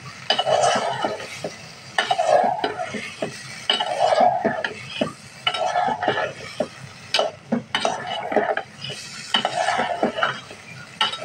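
Long beans, potato and prawns are stirred and sautéed in a pan, with rhythmic scraping strokes recurring every couple of seconds over a light sizzle, plus occasional utensil clinks against the pan, close and clear.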